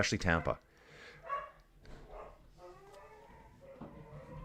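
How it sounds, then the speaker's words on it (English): Dogs upstairs bark in a sharp, loud burst at the start, followed by fainter, scattered yips and barks muffled in the background. "a lot of crazy dog noise upstairs"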